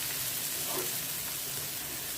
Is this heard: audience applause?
no